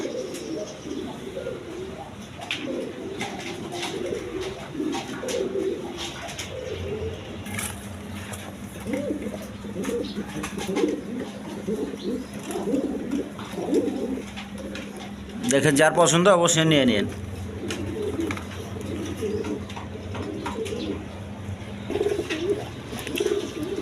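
Pigeons coo repeatedly at a Bengali pigeon market stall selling quality breeds, including red Ghorra and Pakistani Peshawari birds, under near-continuous loud talk from a man, with crowd noise around.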